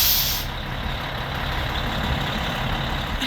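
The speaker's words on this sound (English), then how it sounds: "Drive the bus over to the tire and service center." A bus heading over to a tire and service center, its engine running loud and close with a steady rumble, after a brief hiss like an air brake at the start.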